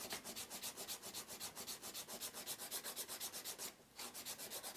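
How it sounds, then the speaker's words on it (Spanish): Acrylic nails being filed across the flat surface, a steady rapid back-and-forth rasping that repeats evenly and close up, with one brief pause near the end, with no talking. "A mí que me gusta también limar así, limar por la parte plana"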